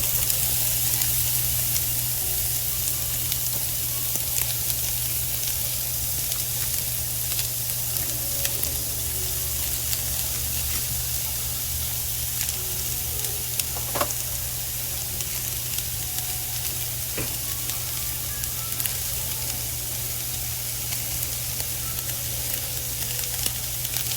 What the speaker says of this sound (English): now our olive oil that we've been heating up. We're going to drop our onion on in here.